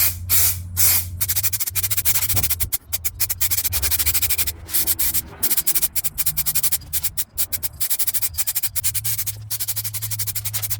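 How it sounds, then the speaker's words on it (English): Cylinders from a 1988 Suzuki GSXR 750 are spray painted close up with Ariel 7021 paint, in repeated loud hissing bursts broken by short pauses. "I have to turn upside down the cylinders in order to spray everything and cover all surfaces."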